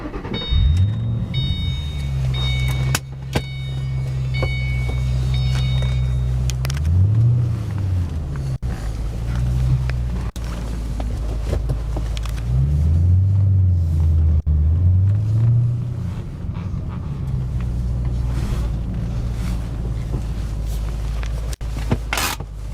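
A 2008 Ford Mustang GT California Special V8 idling with a steady low exhaust rumble, then revving gently a few times as the car is moved back into place, loud and close with no talking.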